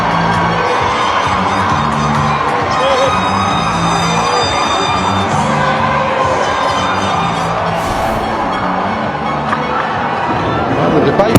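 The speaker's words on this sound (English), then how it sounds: "One thing's for sure, the crowd are pretty happy." A cricket stadium crowd cheers loudly and steadily, a dense roar with whistles and shouts throughout, joined by a commentator's voice.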